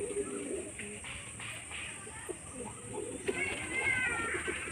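Madras pigeons coo softly at close range in a home loft, low repeated calls amid quiet rustling and a faint voice.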